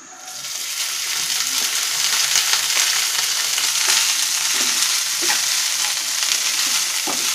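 Pulao rice sizzles loudly in ghee in a pan, a dense continuous hiss with faint scraping from stirring underneath, close up and without any voices.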